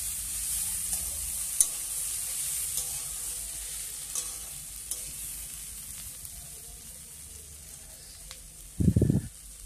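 Lau shaak chorchori, a Bengali village-style bottle gourd greens curry with crushed bori, frying in a pan under a steady soft sizzle with faint scraping from stirring, ending in a short louder clatter of the spoon near the end.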